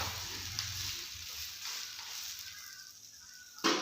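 Carrot and bottle gourd dhapata, a Marathi flatbread, cooking on a hot pan with a steady broadband sizzle, close and moderately loud, holding throughout with a brief sharper crackle near the end; no talking.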